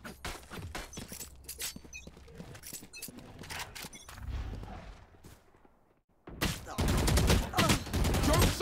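Rapid gunfire from Valorant, with dense bursts of shots and impacts through the first half, a brief lull near six seconds, then loud sustained firing to the end; little talk is evident.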